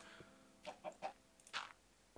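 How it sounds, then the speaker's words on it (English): Chickens in Minecraft cluck in several short, soft bursts spaced unevenly over a faint background, with one fuller cluck near the end. "These chickens are absolutely everywhere."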